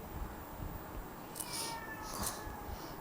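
A domestic cat meows a couple of times close by, short high calls in a quiet room with no talking.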